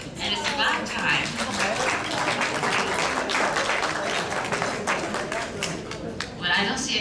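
Sustained applause from a conference audience, dense steady clapping from many hands at fairly loud level throughout, with a voice speaking underneath in places.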